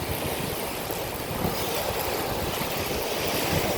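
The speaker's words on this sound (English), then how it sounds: "Still, the waves are awesome." Ocean waves breaking on a Sanibel Island beach, a constant hissing wash of surf with wind noise, heard while cycling along soft sand, with no voices.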